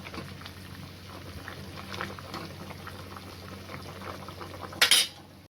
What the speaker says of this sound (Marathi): हे पहा छान अशी रश्श्याला उकळी आली आहे बघा